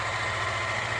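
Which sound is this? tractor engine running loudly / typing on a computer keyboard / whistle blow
tractor engine running loudly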